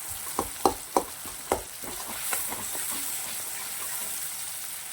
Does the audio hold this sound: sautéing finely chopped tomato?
yes